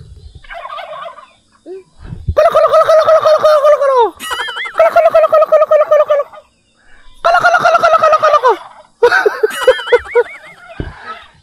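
Several turkeys on a farm in Laguna, Philippines gobble loudly and close, in repeated bursts of rapid warbling calls separated by short pauses.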